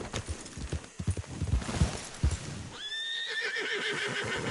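A horse in Red Dead Redemption II trots with clip-clopping hooves, then lets out a loud, long wavering whinny over steady hoofbeats, close and alone.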